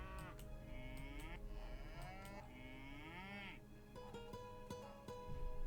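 Cows in the Age of Mythology Retold video game give several long, drawn-out moos over steady game ambience and music, with a few short clicks toward the end.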